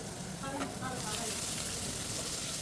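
Prawns and chicken frying in hot oil on high flame make a loud, steady sizzle with crackling bursts, and a voice is heard faintly beneath it.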